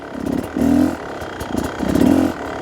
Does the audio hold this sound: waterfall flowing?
no